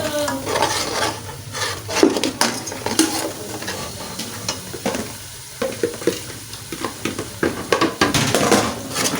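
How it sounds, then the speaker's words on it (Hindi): Tomato and yogurt masala paste for fish curry frying in a pan, a loud close sizzle broken by repeated scraping and stirring strokes of a spoon against the metal. "ये टमाटर और दही का जो पेस्ट बना के मैंने डाली है वो अच्छी तरह भून लेनी है।"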